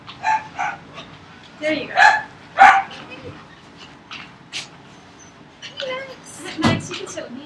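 An excited three-year-old dog gives short, bursty barks and whimpers close by, in uneven clusters while people talk over and around it.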